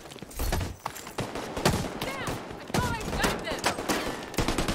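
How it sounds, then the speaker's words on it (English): Light machine gun fire in The Division 2, a third-person shooter, rattles in rapid bursts mixed with scattered gunshots and impacts, a voice talking over the shooting. "Dude, light machine gun's beast as shit"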